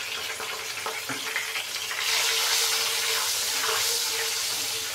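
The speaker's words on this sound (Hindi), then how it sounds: "थोड़ा फ्राई करेंगे।" Green chillies fry in a pan with turmeric powder for a Hyderabadi chilli chicken curry, giving a steady close sizzle that swells louder and brighter midway, with brief stirring clinks.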